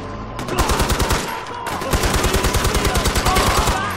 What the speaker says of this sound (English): Going for the machine gun!